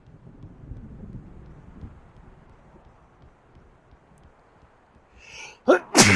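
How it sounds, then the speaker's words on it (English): In the video game Alan Wake Remastered, after several seconds of low rumbling background, a sudden loud sneeze bursts out near the end, preceded by a brief intake of breath. "Oh, sneeze."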